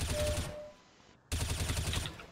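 Rapid automatic fire from a suppressed M4A1-S rifle in Counter-Strike: Global Offensive aim training, two close bursts of rattling shots separated by a short pause.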